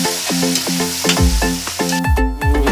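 Shrimp bagoong sautéing in a pan sizzles under repeated scraping and stirring strokes, each stroke ringing briefly with a metallic tone in a quick, uneven rhythm close by, with no talk.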